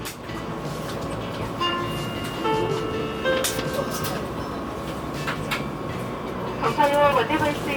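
KTX high-speed train passing through a Korean station, heard from inside a carriage: a steady rolling rumble with rising and falling tonal whines and squeals, louder metallic screeching near the end.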